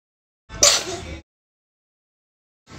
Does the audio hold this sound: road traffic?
no